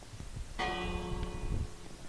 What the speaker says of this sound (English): I just heard a bell ring.